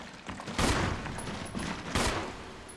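Two heavy gunshot bursts fired at a shark in Resident Evil HD Remaster, each a sharp broadband blast around a second apart over a low rumbling game backdrop.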